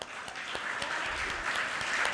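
An audience of arts-event participants claps together in a steady, dense wash of applause lasting the whole short stretch, moderately loud with a few sharper individual claps standing out.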